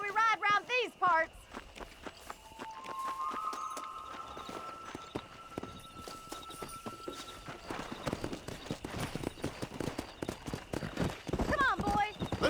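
Horse hooves clip-clop in a steady gallop while riding in Red Dead Redemption, close and rhythmic under game chatter and ambient music, rising into a faster run near the end.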